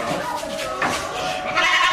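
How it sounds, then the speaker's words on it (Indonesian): Saanen goats on a farm bleating close by, several overlapping wavering cries over a couple of seconds, with a person talking underneath. "sejumlah kambing jenis Saanen sudah disiapkan oleh Nacara Farm untuk dibawa dan dikirim ke luar daerah"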